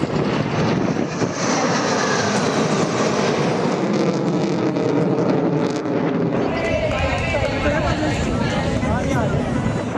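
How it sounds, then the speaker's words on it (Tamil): Rafale fighter jet roaring past during an air show rehearsal over a beach, a loud sustained engine rush that swells and shifts in pitch as it passes, with a voice talking over it. "இமைக்கும் நேரத்தில் ரஃபேல் போர் விமானம் காற்றை கிழித்துக் கொண்டு சென்றது"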